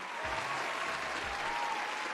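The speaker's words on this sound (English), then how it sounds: "If I can start the applause." Steady applause from a crowd, a dense wash of clapping that holds at an even level throughout.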